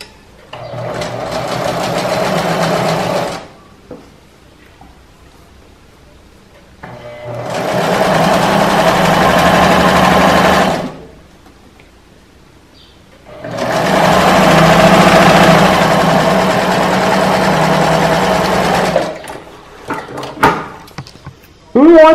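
A home sewing machine stitches in three loud, close runs of steady mechanical whirring lasting several seconds each, separated by short quiet pauses, with small clicks and handling noises near the end.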